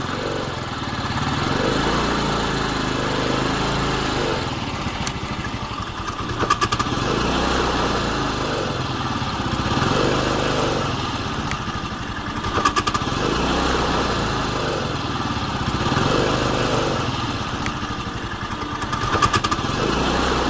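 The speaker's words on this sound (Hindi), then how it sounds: "फिर दोनों उस स्कूटर पर बैठ के पुलिस स्टेशन जाने लगते हैं" Small scooter engine buzzing steadily while riding, a continuous nasal drone with slight rises and falls in revs, loud and close throughout with no voices.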